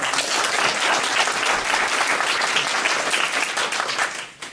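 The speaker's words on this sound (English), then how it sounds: "So let's give ourselves a round of applause." Attendees at an Occupy Portland People's Assembly budget meeting break into loud, sustained applause, many hands clapping continuously and fading near the end, no voices over it.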